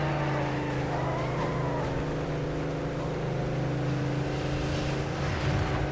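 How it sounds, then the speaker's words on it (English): A car's engine in Midnight Club Los Angeles roars steadily under a nitrous boost, a dense sustained whoosh and drone that stays loud throughout, with no talking. "That was the sound of someone nossing, I heard that."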